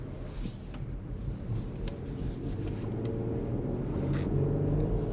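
A Jeep Laredo SUV driving: a low, steady engine and road rumble heard from inside the cabin, moderately quiet and continuous, with a few faint interior knocks and no talking.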